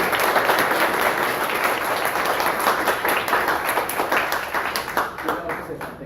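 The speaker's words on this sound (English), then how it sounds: "we can all give a round of applause to you" A crowd at a closing event applauds its coordinator with a steady round of clapping that runs on for several seconds before thinning out at the end.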